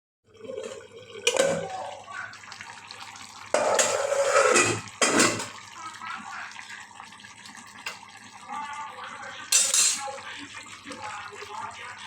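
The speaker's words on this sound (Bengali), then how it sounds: "কড়াইটা ধরে নাড়াচাড়া করে দিলাম" Small fish are stirred in a metal kadai, with scraping and clanking of a spoon against the pan in a few bursts, a low hum running underneath, and a voice briefly speaking.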